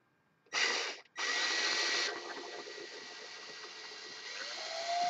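A cordless screwdriver twists 0.25 and 0.32 NC wire together, giving a short whirring burst, a brief pause, then a longer run that eases into a steadier, quieter drone rising slightly in pitch at the end.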